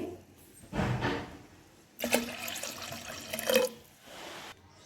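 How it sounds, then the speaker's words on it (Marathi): Water splashes into a pot of dal in two bursts, a short pour and then a longer one of about one and a half glasses, with quiet pauses around them. "टाकून घेऊया एक दीड ग्लास पाणी आपल्याला त्यामध्ये टाकायचं आहे"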